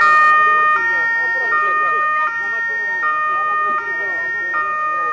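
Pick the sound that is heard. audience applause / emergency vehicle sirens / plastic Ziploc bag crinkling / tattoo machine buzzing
emergency vehicle sirens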